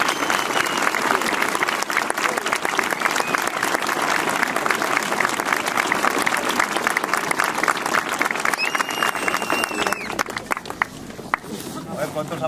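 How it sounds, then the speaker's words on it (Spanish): Sustained applause from a large audience at a cider and comedy festival in Valdesoto, steady clapping throughout with crowd noise and a few voices mixed in. "Así que vamos a darle un aplauso."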